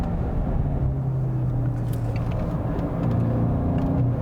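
A 2022 Volkswagen GTI accelerates hard on a track, a loud sustained engine drone with rising tonal hum filling the cabin, no speech over it.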